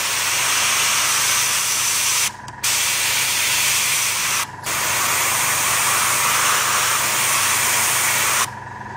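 An airbrush sprays paint onto a model in steady, loud hissing bursts, broken by three short pauses where the airflow briefly cuts off.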